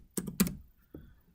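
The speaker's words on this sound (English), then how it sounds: "we'll put our initials or type in complete or completed" A few computer keyboard keystrokes, two quick clusters of clicks and then one more tap after a short pause, close and fairly quiet in an otherwise still room.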